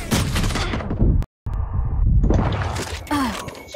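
Shotgun gunfire in the Valorant video game, several loud close blasts and impacts breaking up busy game audio, with a brief silent gap partway through.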